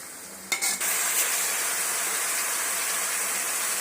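Chopped vegetables and green chilies sautéing in a pan for dried fish kuzhambu: a couple of quick stirring scrapes at the start, then a loud, even sizzle that continues without pause and without any speech.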